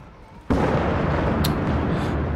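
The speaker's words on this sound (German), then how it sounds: "Oh, dieser scheiß Gewitter, ne?" A sudden loud crack of thunder from a storm in the horror game Layers of Fear breaks out of quiet and rolls on as a heavy, sustained rumble.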